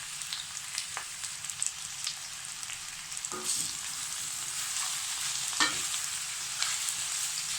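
Squash frying in a pot hisses steadily while a utensil stirs and scrapes through it a few times.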